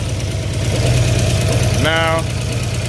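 A rebuilt 1970 Dodge Charger 318 V8 idles close by with a steady low rumble and slight knock, while someone speaks briefly over it.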